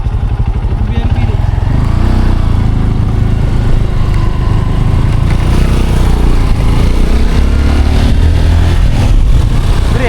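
A loud motorcycle engine rumbles steadily up close, revving slightly, with no pause throughout.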